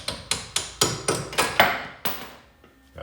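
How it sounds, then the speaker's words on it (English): A hammer knocks a strut mount part loose on a 1997 BMW E36 M3, about eight sharp metallic blows at a steady, slightly quickening rhythm, close and clear, then a brief pause and one final tap, with no talking. "So just a hammer."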